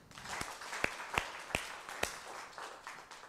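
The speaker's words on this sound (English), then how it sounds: "A round of applause to that group." Conference audience at a summit gives a group a round of applause, a light, fairly distant patter of clapping with several sharper individual claps standing out, steady for a few seconds.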